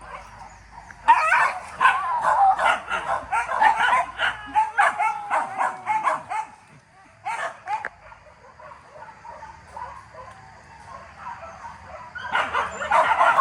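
Dogs bark in a long series of rapid, overlapping yelps, moderately loud, easing off midway and starting again near the end, with no talk over them.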